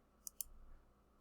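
Two quick plastic button clicks on a calculator as numbers are entered, crisp and close but quiet, followed by a faint low hum.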